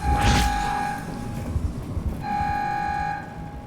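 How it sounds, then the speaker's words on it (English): Airlock pressurizing in the video game Soma: a steady, piercing alarm tone sounds twice, with a gusting, hissing rush of air in between and beneath it. "Why is the airlock pressurizing?"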